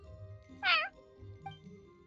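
A single clear meow from a cat in a video game rises out of a quiet, low backdrop, followed by a faint short chirp.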